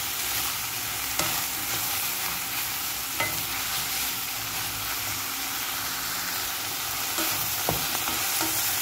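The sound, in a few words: mushrooms and vegetables sizzling while being stirred in pan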